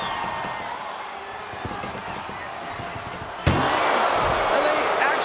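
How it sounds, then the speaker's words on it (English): An ambulance door slams shut during a wrestling video game match, a single loud bang that lifts into sustained crowd roar, following a stretch of arena noise and commentary. "Doing their best just to shut that first door."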